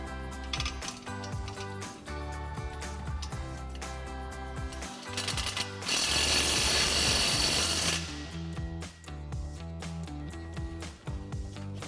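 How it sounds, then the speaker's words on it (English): An impact wrench with a 10 mm socket tightens an exhaust tip clamp on a Ford F-250 during a Flowmaster FlowFX single exhaust install. A loud, dense two-second hammering burst rises out of steady tonal mechanical background noise. "Then we'll go ahead and tighten that down with our 10 millimeter socket on our impact and a 10 mil wrench."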